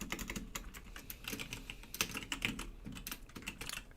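Computer keyboard typing while writing C++ code, a steady, fairly close run of quick key clicks with a few louder taps, no talking over it.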